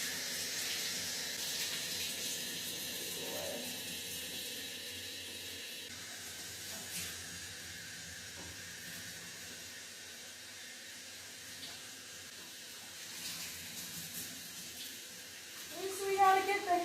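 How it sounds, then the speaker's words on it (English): A tap runs steadily while someone wets and washes their hair, a soft continuous hiss of flowing water, with a person's voice and some handling sounds over it near the end. "Turn on my water."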